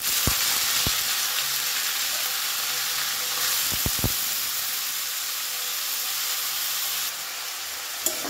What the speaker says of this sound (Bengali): এবারে লবণ দিয়ে মেখে রাখা থোড়টা আমি তেলের মধ্যে দিয়ে দিচ্ছি।